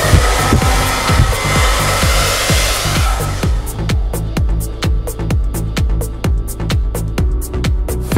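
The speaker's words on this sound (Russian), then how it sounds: "Фен модели 2377 с профессиональным AC-мотором" A VITEK VT 2377 hair dryer with an AC motor runs steadily and loudly close by, a constant airy roar with a pulsing low hum, and partway through its tone thins and brightens as the airflow or setting changes.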